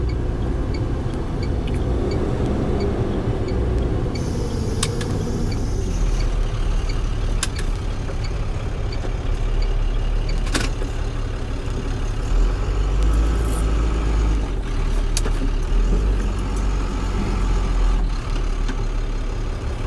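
Truck rumbling along a Virginia highway, heard from inside the cab as a steady loud low drone with occasional sharp clicks and knocks.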